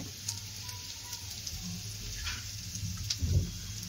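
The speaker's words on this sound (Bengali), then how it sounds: "আর এখানে কড়াতে পেঁয়াজটা লাল লাল করে ভাজছে" Onions frying in a wok (kadai) for a potol-chingri dish, a soft steady sizzle and crackle running throughout, with faint kitchen clatter near the end.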